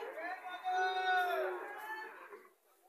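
Calves low and bleat in a lively livestock market at Chauara Bazar, Comilla, Bangladesh, their drawn-out calls rising over a murmur of people in the background.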